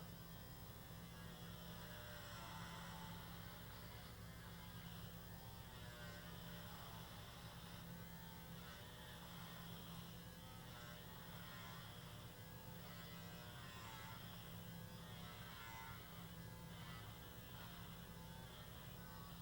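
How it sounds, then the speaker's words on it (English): An electric dry shaver runs continuously at low level, a steady buzzing hum with slight wavering as it moves, alone without talk. "It's basically a dry shaver that works better when your beard has been moistened, but not when it is completely wet."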